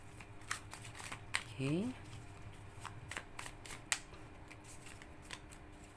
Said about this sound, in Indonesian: Dan kita shuffle kartunya.